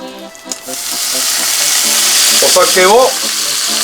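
A hamburger patty sizzles in a frying pan as sake is poured in for a teriyaki glaze, the frying growing into a loud, steady hiss, with short clinks and scrapes early on.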